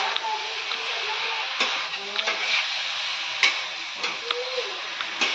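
Chili and garlic sizzle steadily in a pan while a utensil stirs and scrapes against the metal in scattered clinks, with a voice talking faintly in the background.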